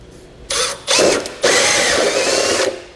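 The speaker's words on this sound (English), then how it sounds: "I'm just going to use a hole saw to cut that material out" A hole saw on a power drill bores through vehicle body material while installing a Curt trailer hitch receiver on a 2022 Subaru Forester, heard as close, loud whining bursts of cutting that stop, restart and run steadily.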